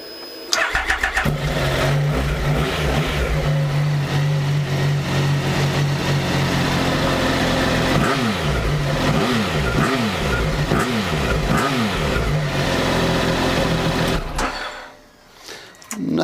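A 2016 Triumph Speed Triple on its standard exhaust cranks and fires, settles into a loud idle, then is blipped through a string of sharp revs before the engine cuts off abruptly near the end.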